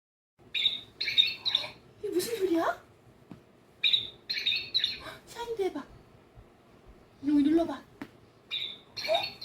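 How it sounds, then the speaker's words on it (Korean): Bird song plays in quick bursts of high chirps and tweets, repeated several times with gaps, while a voice talks in between. "새가 어떻게 노래하나 들어보자."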